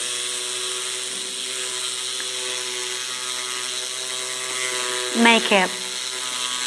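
A dental burr on a low-speed handpiece whirs in one short, rising burst against composite veneer material near the end, after a stretch of quiet background hum, with a voice speaking nearby.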